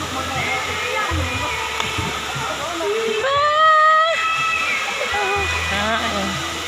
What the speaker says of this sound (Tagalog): Mini falls.